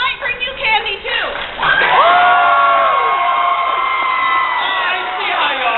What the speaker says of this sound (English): We need a round of applause for our ninjas